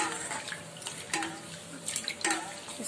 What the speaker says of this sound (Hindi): थोड़ा हाथ से इसको लगड़ के धोइएगा